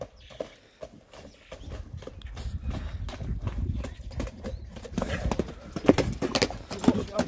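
A large horse walks with hooves clip-clopping in a steady rhythm, close and moderately loud, the steps growing sharper toward the end.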